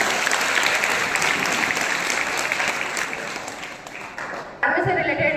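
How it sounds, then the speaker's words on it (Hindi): A crowd at a career fair claps loudly and steadily for several seconds. The clapping then fades, and a louder sound cuts in near the end. "एक बार फिर से जोरदार तालियों के साथ।"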